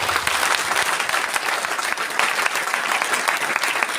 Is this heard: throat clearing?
no